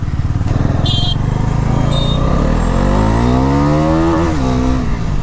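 A Bajaj Pulsar NS400Z motorcycle engine is revved hard to high RPM, a loud, close, steady roar whose pitch climbs toward the end. No one speaks.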